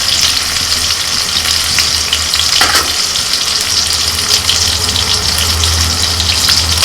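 Tomato and chilli fry in a pan with a spice paste of ginger, chilli, turmeric, cumin and coriander powder added: a loud, steady sizzle with stirring scrapes, continuous throughout with no talking.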